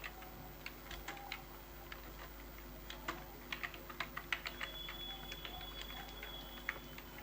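Fingers typing C++ code on a computer keyboard, quiet irregular key clicks in short bursts and pauses, close by against a steady low hum.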